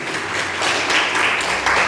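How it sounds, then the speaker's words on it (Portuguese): Brief, dense applause from a church congregation rises over a couple of seconds for Pastor Ricardo, many hands clapping together with a faint voice underneath. "Dê uma salva de palmas, irmão, pela vida do pastor Ricardo"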